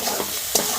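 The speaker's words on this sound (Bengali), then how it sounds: "ভালো করে আমি কষে নেব।" Spice paste with Maggi masala and sugar sizzles steadily in a hot pan for an egg kofta curry, with scraping stirs and a sharper clatter of the spoon near the end, close and fairly loud, no talking.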